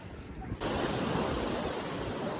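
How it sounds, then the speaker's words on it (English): Ocean surf rolls onto a beach at Wells-next-the-Sea in Norfolk, a broad continuous wash of breaking waves that surges in suddenly and stays loud with some wind rumble. "I've made it to the beach, or the waves if you like."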